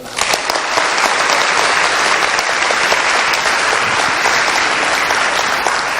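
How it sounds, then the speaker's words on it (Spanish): Sustained, dense applause fills a church as the congregation claps steadily for about six seconds during a Spanish-language Advent holy hour service. "Denle un aplauso al Señor."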